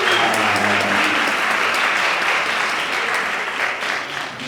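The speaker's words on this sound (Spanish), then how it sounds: "a ver qué dice el aplausómetro" Sustained audience applause from a crowd, loud and dense throughout, tapering slightly toward the end.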